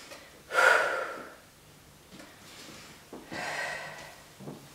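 Breathing during a gentle exercise session for older adults: a deep, close inhale and a slower exhale, then a softer second breath cycle, with no talking.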